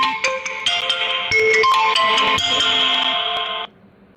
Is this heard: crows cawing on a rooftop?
no